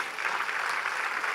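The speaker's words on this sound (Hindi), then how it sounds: "आप लोग एक बार ज़ोरदार तालियां बजाएं।" A short stretch of steady clapping from an audience at an anniversary event, moderately loud and continuous with no talk over it.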